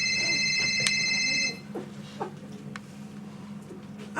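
A telephone rings with a bright, repeated electronic trill for about a second and a half, then stops, leaving a quiet room with faint movement and scattered small sounds.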